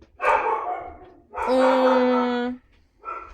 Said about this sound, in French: Je m'excuse pour le chien qui aboie, qui a dû croiser un passant.